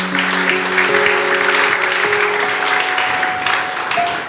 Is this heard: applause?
yes